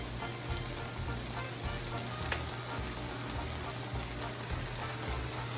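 Spinach tossed into a pan of softened, translucent sautéing onions sets off a steady, dense sizzle that carries on evenly and fairly loud, with no talking over it.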